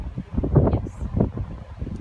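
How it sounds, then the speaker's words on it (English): Gusty wind buffets the microphone outdoors on a golf course, a low rumbling whoosh that rises and falls in uneven surges, moderately faint with no talking. "with the weather conditions today, it is pretty windy out"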